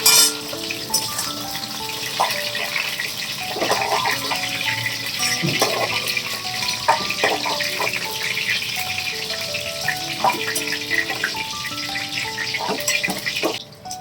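Cauliflower frying in a pan sizzles steadily with a dense crackle, close and continuous, broken by occasional stirring scrapes and faint clinks.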